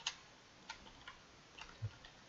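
A clock ticks in a puzzle game, faint and alone, with a handful of sparse, uneven clicks and one lower knock near the end.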